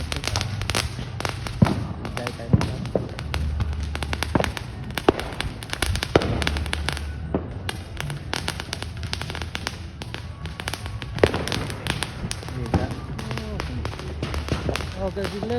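US Independence Day fireworks bursting in a dense, continuous barrage of sharp cracks and booms, close and loud, with scattered crackling between the louder blasts.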